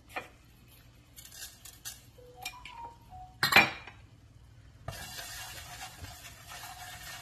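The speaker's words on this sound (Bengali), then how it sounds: "লবণটা হালকা একটু ভেজে নিতে হবে" Salt is dropped into a hot, empty pot for light frying: a few quiet clinks and scrapes, one brief louder rattle, then a faint, steady sizzling hiss that continues to the end.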